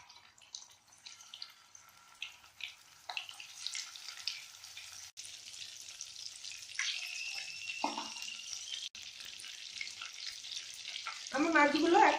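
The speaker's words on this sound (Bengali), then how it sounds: "সরষের তেলে আমি চিংড়ি মাছগুলো ভেজে নিব" Prawns fry in hot mustard oil with a soft, steady sizzle and faint crackle, spattering grows louder toward the end, and there is no talking.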